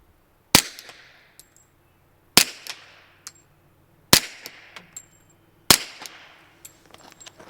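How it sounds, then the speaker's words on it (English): Four suppressed .45 ACP shots from a 1911 pistol fitted with a Dead Air Ghost suppressor packed with gel, fired into dirt outdoors; each sharp, loud report is evenly spaced about two seconds apart, with short decaying tails and no voices. "the Ghost in short with some bladed material, we are using Clear Glide wire pulling gel. All right, 4 rounds out of this guy into the dirt."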